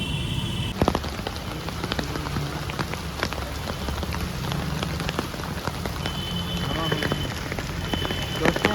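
Rain falling in Varanasi, a dense steady patter of drops on surfaces close by with scattered louder drips throughout.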